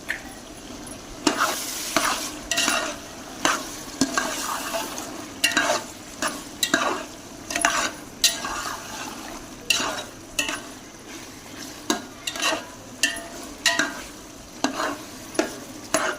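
Spices with black pepper stir-fried for chana pulao, rhythmic scraping strokes of a spoon in a pan over a low sizzle, close and repeated steadily with no talking.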